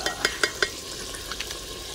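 Chili, turmeric and salt are stirred into a hot pot, producing three quick scraping knocks of a spoon followed by softer scrapes over a faint sizzle.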